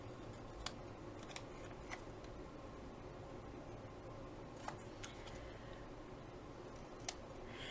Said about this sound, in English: Okay, trim off my excess.